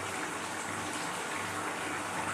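Water pours steadily into a cooking pot of gravy, a continuous hissing gush at moderate volume with no voices.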